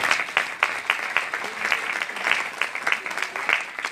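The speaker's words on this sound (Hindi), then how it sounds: "इसलिए आप लोग इनके परिवार के लिए ना जोरदार ताली बजा।" Steady applause from an audience at a Bhagavatam recitation in Govindpuri, Delhi, with dense clapping sustained throughout and a faint murmur of voices underneath.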